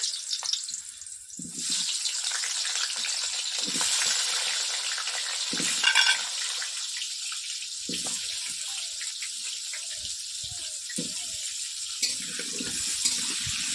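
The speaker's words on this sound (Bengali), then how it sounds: "আমি আলুটা এবার ভেজে নিচ্ছি কড়াইয়ের মধ্যে।" Continuous hissing sizzle of potatoes frying in a wok, with occasional scraping and clinks of stirring, fairly steady throughout.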